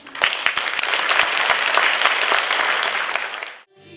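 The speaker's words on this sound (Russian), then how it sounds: "Благодарность зрителей была отмечена не только шквалом аплодисментов." An audience applauds a children's ensemble performance with a loud, thick burst of clapping, sharp individual claps popping out near the start, then sustaining evenly before cutting off abruptly near the end.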